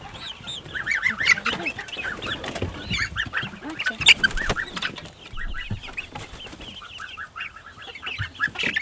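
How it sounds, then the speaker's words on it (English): Chickens in a garden chicken run after being let out of the coop, with busy overlapping clucks and squawks, some loud and close, continuing throughout. "So we're starting off in our chicken run."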